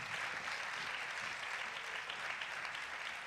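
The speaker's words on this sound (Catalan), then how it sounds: "Si fort l'aplaudiment, s'acomiaden." A crowd claps steadily and continuously, a dense wash of applause at moderate volume with no voices standing out.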